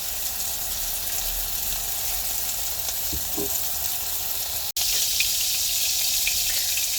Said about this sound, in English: Alright, so they're sauteing nicely.